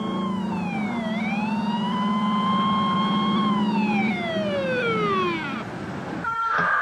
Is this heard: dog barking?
no